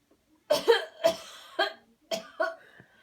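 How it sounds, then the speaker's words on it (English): A person coughs hard during a healing coughing exercise, in about five forceful, close bursts separated by short pauses, with no talking. "Uh-oh, another cough."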